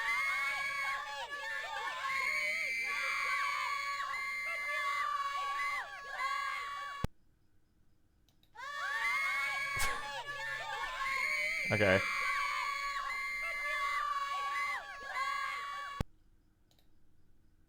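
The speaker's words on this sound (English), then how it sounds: "Good scream acting" Video game voice acting with a long sustained scream over a busy clattering background, cut off by silence, then repeated; a brief spoken word is heard partway through.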